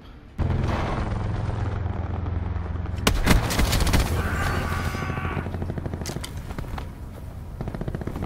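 Shotgun blasts in Black Ops 4 multiplayer, a few sharp booming shots over a continuous bed of game noise and hum, loud and close, with no talking.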